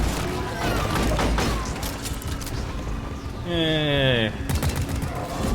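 Rapid gunfire bursts in a video game crackle up close in quick fusillades, mixed with a synthetic text-to-speech voice talking and a sweeping electronic tone partway through.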